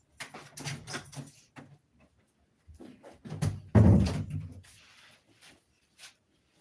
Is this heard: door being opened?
yes